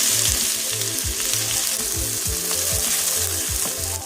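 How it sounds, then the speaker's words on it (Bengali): Onions fry in hot coconut oil with a loud, steady sizzle that fills the whole stretch, while a low rhythmic mechanical pattern ticks along underneath. "পেঁয়াজটা একটু লাল লাল করে ভেজে নেব।"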